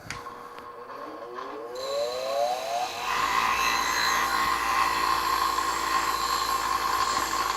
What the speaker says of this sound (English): Brass brush on a grinder.